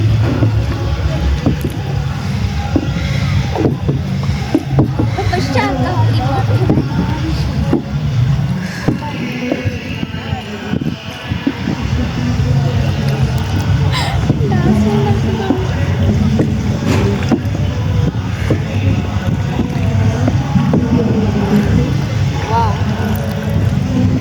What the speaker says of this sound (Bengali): এরপর আমি তানজিলা আপুর থেকে বৈঠাটা নিয়ে নিজে একটু নৌকাটা চালানোর চেষ্টা করলাম।